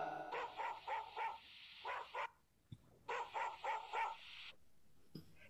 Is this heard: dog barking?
yes